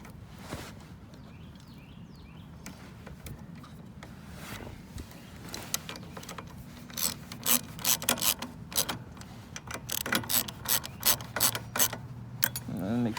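Screws are driven into a John Deere JS60 lawn mower carburetor during reinstallation, heard as close ratcheting metal clicks and scraping that grow busier and louder toward the end, with no talk.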